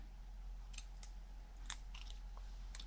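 Scissors snip the corners off a sheet of paper in a quiet room, giving a handful of faint, crisp cuts spaced irregularly over a low steady hum.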